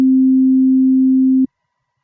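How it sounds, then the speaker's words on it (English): A pure sine wave tone at C4, a single steady loud pitch with no overtones, holding for about one and a half seconds before cutting off abruptly into silence. "only one frequency really is being played, and that is at C4"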